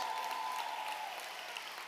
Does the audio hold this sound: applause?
yes